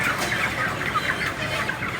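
Chickens cluck in a dense, continuous chatter while being unloaded at a poultry dealer's in Manila before dawn, a busy flock close by with no voices.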